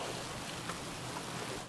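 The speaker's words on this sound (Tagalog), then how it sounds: "Muulan na, lumalakas na yung ulan." Heavy rain pours steadily near the sea where lobsters and crabs are caught, a dense close hiss that fills the short stretch and then cuts off abruptly.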